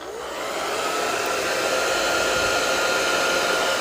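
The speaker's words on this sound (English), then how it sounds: "So I'm just gonna hit it with a hair dryer for a couple seconds" A hair dryer drying a watercolor painting runs steadily and loudly, a constant whooshing roar with a faint motor whine that swells slightly at the start and then holds.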